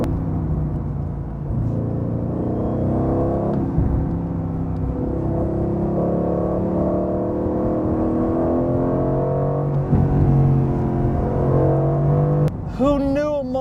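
An Aston Martin V8 Vantage engine drones loudly and steadily as the car is driven, pitch climbing and dropping through upshifts, with a brief voice near the end.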